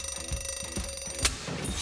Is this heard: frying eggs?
no